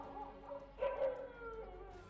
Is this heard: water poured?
no